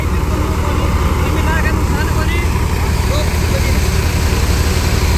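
Steady low engine drone from a tractor running next to a multi-speed thresher cutter, loud, continuous and close, with an even rumble that holds without change.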